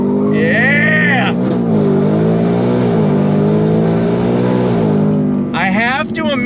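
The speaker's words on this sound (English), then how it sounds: "You got a real deal exhaust sound, nothing pumped in, nothing artificial" Loud, close exhaust roar from a Hennessey H850 Ford Mustang Dark Horse pulling hard from a dead stop in first gear, rising steadily with a brief high whine at the start and a shift-like break near the end.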